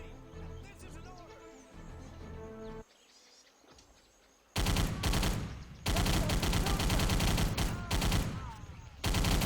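A Thompson submachine gun fires in a video game in long, dense, loud bursts after a brief lull, with some other game sounds mixed in earlier.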